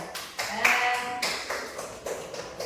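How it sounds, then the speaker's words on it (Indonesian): Students in a classroom clap their hands in a few short rhythmic bursts, bright taps spaced unevenly over a couple of seconds, with a brief voice or tone mixed in. "Terima kasih untuk kalian, tepuk tangan."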